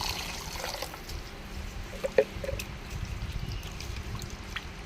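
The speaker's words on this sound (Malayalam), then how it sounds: "ഒന്ന് നല്ല വെള്ളത്തിൽ ഒന്ന് കഴുകി വൃത്തിയാക്കി എടുക്കാം" Sardines are rinsed clean in a basin of water, a soft close sloshing and trickling with one brief splash partway through and no talk.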